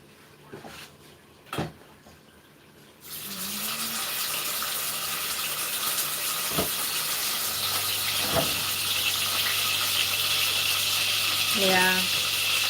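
Food drops into hot oil and frying starts with a sudden loud sizzle that holds as a steady hiss, with a few clicks and knocks before it and a thin tonal whine partway through.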